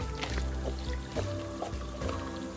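Water is poured in the cooking video game Abra-Cooking-Dabra, giving a short, close, bubbly gurgle with soft splashes over a couple of seconds, backed by a low game soundtrack.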